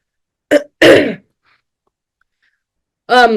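A person clears their throat and gives a couple of short, close coughs, then pauses in silence before one more harsh throat sound.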